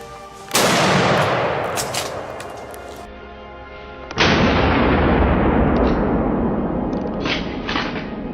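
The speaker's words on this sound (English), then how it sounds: "gunshots rang out across the swamp" Gunfire during a wild boar hunt in a swamp, two loud sharp blasts about three and a half seconds apart, each followed by a long rolling echo that carries across open wetland.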